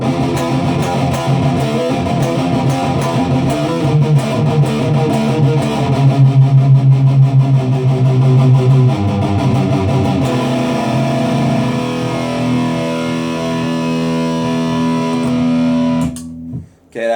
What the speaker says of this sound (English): next we're going to look at the Black Arts Toneworks Ferro Fuzz